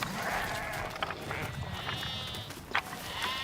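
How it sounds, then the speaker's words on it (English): Sheep bleat in a field, several short, close calls rising over a low outdoor murmur, with a faint voice now and then in the background. "Fucking hate sheep."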